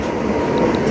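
Another train rumbling steadily past at close range at a crossing on the Gandhinagar to Veraval superfast express route, a continuous loud roar of rolling wagons with no pause.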